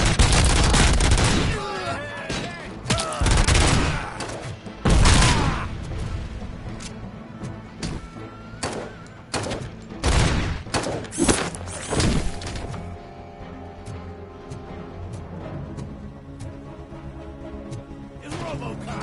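Gunfire in the video game RoboCop: Rogue City: loud, close bursts of shots and sharp impacts cluster heavily in the first half, then thin to scattered cracks and thuds over a lingering mechanical hum.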